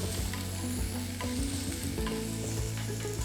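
Chopped onion and celery stalk sautéing in a pan for pumpkin soup, a steady close sizzle with scattered clinks and scrapes of stirring throughout, no voices.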